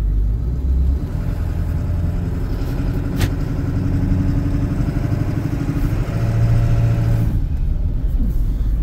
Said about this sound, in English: It's got a lot of intake noise, a lot of turbo noise.